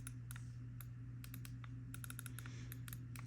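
Finalmouse ULX Phantom mouse buttons click sharply, close up and alone, in irregular single presses and quick bursts over a low steady hum.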